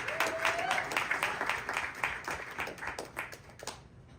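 A gala audience at an anniversary celebration claps for a few seconds, a mix of close individual hand claps and a broader patter, fading out near the end.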